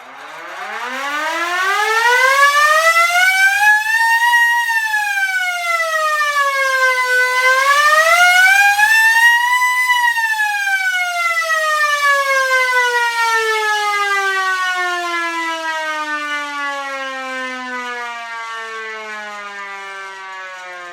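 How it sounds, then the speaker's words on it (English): A hand-cranked air raid siren wails loud and close, its pitch climbing, dipping and rising again in wobbling sweeps before a long steady tone slowly winds down. "Now you might have noticed that the siren was wobbling back and forth"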